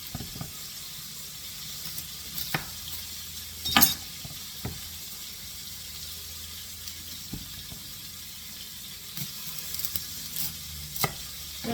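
Finely chopped onion browns in a frying pan for a veal fricassee, giving off a steady, moderately close sizzle with a few brief clinks and stirring knocks scattered through it. No one talks.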